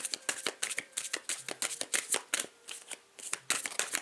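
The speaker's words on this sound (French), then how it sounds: "je vais bien avoir une carte qui va tomber ou pas?" Tarot cards being shuffled by hand: close, rapid riffling and flicking in bursts with brief pauses, with no speech.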